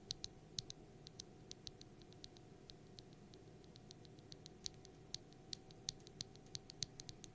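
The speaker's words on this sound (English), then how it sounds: "here is the sound of a frozen silent switch, key switch V2, right next to the microphone" A TTC frozen silent V2 key switch clicks right next to the microphone. The typing is faint and soft, a steady run of small irregular taps over a low background hum.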